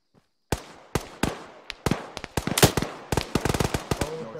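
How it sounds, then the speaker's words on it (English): Gunfire from a squad during a video game military operation: sharp, distant-to-mid shots in scattered bursts and single cracks, irregular rhythm, with no talk over it. "I saw a different squad firing at them."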